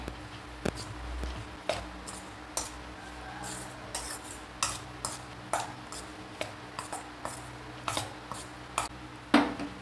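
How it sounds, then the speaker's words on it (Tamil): Cauliflower mixed with cornflour and salt for Cauliflower 65: quiet, close spoon clinks and taps against a bowl in an irregular rhythm, with soft shuffling between strikes and no voices. "அப்படியே கிண்டி விட்டுக்கலாம்"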